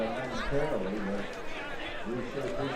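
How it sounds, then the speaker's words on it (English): Excited crowd at a district high school track meet, a lively murmur of cheering and chatter with overlapping voices, moderately close and steady throughout. "And the crowd, you can hear excited."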